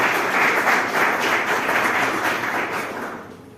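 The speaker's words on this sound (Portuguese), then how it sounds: "Pode aplaudir o Senhor Jesus, porque isso aqui é graça." A church congregation applauds during a sermon, a dense wash of many hands clapping loudly and steadily, then starting to thin and fade toward the end.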